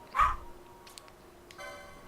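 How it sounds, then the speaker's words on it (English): A single close, sharp dog bark at home during a game stream, followed by quieter rustling and a faint whine. "And my dog's being noisy."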